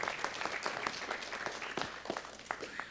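Audience at a city council meeting clapping for a fire chief, a moderately close, steady round of applause with distinct individual claps throughout.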